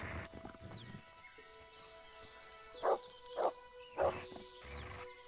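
Three loud, sharp dog barks from a dog in the medieval RPG Kingdom Come Deliverance, spaced about half a second apart over a steady game ambience with faint background sounds.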